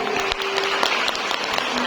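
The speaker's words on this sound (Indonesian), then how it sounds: "Kasih tepuk tangan dulu untuk para ayah" Audience at a parenting seminar at an Islamic boarding school claps for the fathers present, a dense, steady round of applause filling the hall, loud and close, with a faint tone running beneath.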